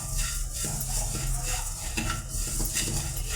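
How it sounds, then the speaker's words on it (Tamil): Cumin seeds dry-roasting in a hot pan while being stirred, a dense rustling, scraping texture with light metallic clinks of a spoon against the pan, moderately loud and steady. "சீரகத்தை நல்லா வறுத்து எடுத்துக்கலாங்க."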